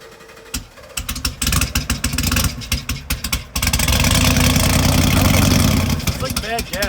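A 2016 Chevrolet Camaro engine with a cracked valve spring sputters and misfires unevenly for a few seconds, then settles into a loud, rough, lumpy idle.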